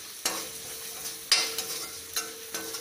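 Garam masala sizzles softly in a pan for aloo gobhi sabzi, with a steady hiss broken by several sharp stirring scrapes of a spoon at irregular intervals.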